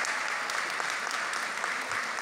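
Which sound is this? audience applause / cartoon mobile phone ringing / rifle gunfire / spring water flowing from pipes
audience applause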